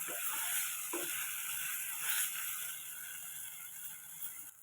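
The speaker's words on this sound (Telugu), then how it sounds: "మనం ఇందులోనే తెల్లగడ్డలు అల్లము టమాటో అంతా వేసాం కదా కాబట్టి ఆ పచ్చి స్మెల్ అనేది పోయే వరకు మనం ఫ్రై చేసుకోవాలి" Garlic, ginger and tomato fry in a pan with a steady bright sizzle, joined by a few faint clinks from stirring.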